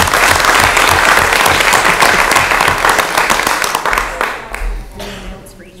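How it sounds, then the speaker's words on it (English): Loud audience applause at a parish council meeting, dense clapping filling the room and tapering off over the last couple of seconds, with faint voices emerging as it dies down. "Give them a round of applause"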